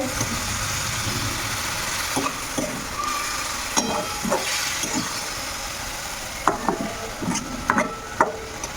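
Bihari-style chicken masala sizzles in a pan over a high gas flame after a splash of water, with a steady frying hiss broken by scraping stirs and occasional clinks of the spoon against the pot.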